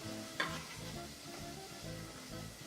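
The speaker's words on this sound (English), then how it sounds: "So those are going to saute really well and nicely." Chopped peppers sauté in a pan for a spicy tomato and sausage rice dish, giving a soft, steady sizzle with a light stirring scrape near the start.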